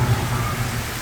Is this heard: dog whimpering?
no